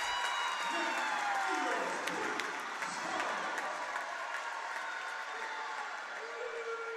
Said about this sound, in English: Both sides of the stadium were cheering